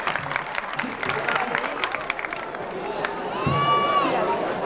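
Audience clapping at a temple renovation program for Shri Nilkanth Mahadev temple, a brief steady patter of many hands, with a sliding whistle-like tone rising over the applause near the end.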